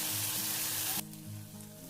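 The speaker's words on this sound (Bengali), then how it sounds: "মিডিয়াম ফ্লেমে মশলাটা কষিয়ে নেব।" Spice paste of cashew, poppy seed and almond sizzling and being stirred over a medium flame, a bright hiss that drops sharply to a softer sizzle halfway through the brief moment.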